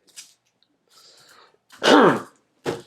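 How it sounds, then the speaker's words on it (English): A single loud, harsh cough close to the microphone, surrounded by a few softer breathy throat noises. "Sorry about that cough."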